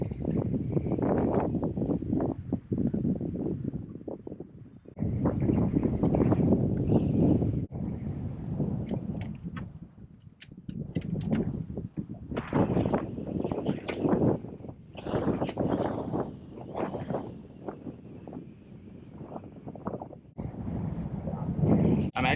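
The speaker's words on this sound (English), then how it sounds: "It's still windy." Strong gusting wind on a fishing boat in Georgia backwaters buffets the microphone in loud, rumbling bursts separated by short lulls, with no one speaking.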